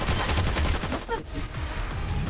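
Automatic gunfire in the Planetside 2 online shooter, dense overlapping bursts of rapid shots from several weapons forming a busy fusillade that dips briefly then resumes, loud and continuous with no talking.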